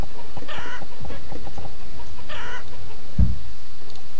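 Chickens in the village-building game Banished cluck and squawk in short bursts, several calls close together, with a sharp thump near the end and no talk.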